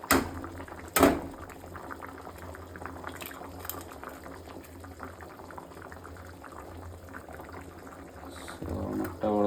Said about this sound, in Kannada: ನೀರು ಚೆನ್ನಾಗಿ ಕುದೀತಾ ಇದೆ